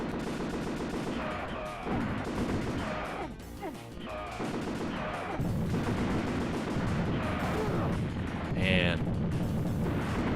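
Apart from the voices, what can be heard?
explosions and gunfire in video game Azurik: Rise of Perathia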